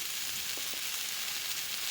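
Ginger paste and chopped tomato sizzle in hot frying oil in a home kitchen, a steady bright hiss with faint crackles and a soft stir or two.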